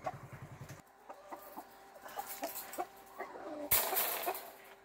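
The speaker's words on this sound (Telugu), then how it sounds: "అలాగే ఇంకో పుంజును కూడా చూపిస్తాను నేను మీకు." On a poultry breeding farm, a rooster gives soft, scattered clucks at a low level, with a quick rhythmic burst of clucking at the start and a sharper rustle near the end.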